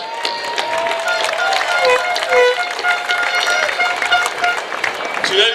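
Crowd applause and cheering for the club president at a Bermuda Cup Match cricket event, loud and sustained clapping with whistles and voices mixed in throughout.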